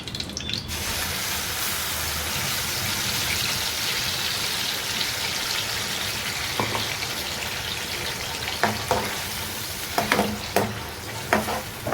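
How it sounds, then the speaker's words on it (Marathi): Chicken masala paste with a bay leaf frying in oil, a steady close sizzle throughout with sharp scraping stirs of the spatula near the end. "त्याच्यामुळे त्याला 5 मिनिटं आपण तेलामध्ये परतून घेऊया चांगलं"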